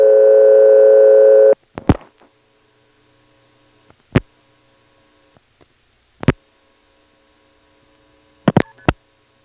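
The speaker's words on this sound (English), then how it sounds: "And there it is again, key pulse plus start." A 1977 telephone exchange in Ramseur, North Carolina, responds after 116 is dialed: a loud steady tone cuts off, followed by sparse sharp clicks and short multifrequency key-pulse and start tone bursts, with quiet line hum between.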